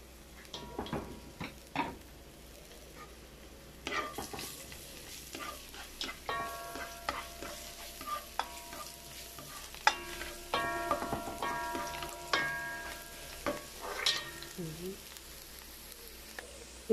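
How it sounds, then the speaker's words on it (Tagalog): Garlic sautéing in a pan for a spicy Bicol Express, a steady quiet sizzle with scattered stirring clicks and utensil taps against the pan, intermittent and close. "Unahin natin mag-gisa yung bawang."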